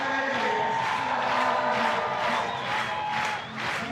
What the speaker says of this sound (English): the crowd start clapping as they build him up towards the crux